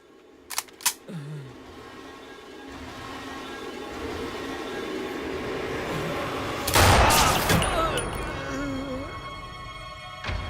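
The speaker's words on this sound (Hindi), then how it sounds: "कुछ गन शॉट्स की आवाजें आई।" Gunfire in a 2018 South Indian dubbed movie scene: a couple of sharp shots ring out early, followed by a louder burst of several shots around the middle, heard over a low tense background.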